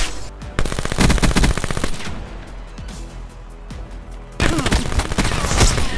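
Rapid automatic gunfire rattles in bursts in Black Ops 4 on PS5, from a low-recoil assault rifle. The shots come dense and loud, pause briefly in the middle, then a fresh burst resumes.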